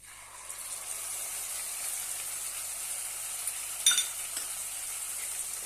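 Onion paste sautéing in a pan for a spinach-onion chutney, a steady close sizzle with a brief louder crackle and stir near the middle; no talking.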